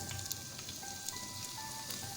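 Whole garam masala spices, including small cardamom, frying in oil as onions are added for a beef white biryani: a soft, steady sizzle with a few faint crackles and pops, quiet and close.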